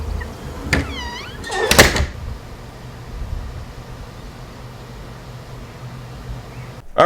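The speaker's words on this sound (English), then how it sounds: "Maybe I better shut the door." A squeaky creak followed by a solid thump as a door closes, then low steady background noise, and a faint knock at the very end.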